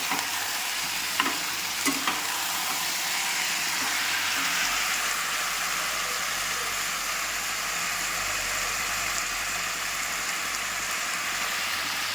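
A ginger, tomato, cumin and coriander paste goes into hot oil with turmeric for chicken curry, sizzling in a loud, rain-like steady hiss with a couple of brief scrapes near the start.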